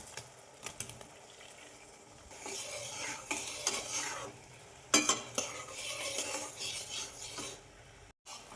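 Chhena pieces are stirred into sticky sugar syrup in a pan over a low-to-medium flame: irregular scrapes and clinks of a utensil against the metal over a faint sizzle, close up, with no speech.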